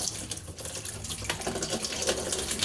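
Tap water runs steadily in a continuous, moderately loud broadband gush while something is washed under it, with faint clinks and splashes over the flow.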